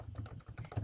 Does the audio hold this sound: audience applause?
no